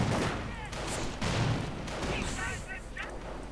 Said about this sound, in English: oh dear, more grenades.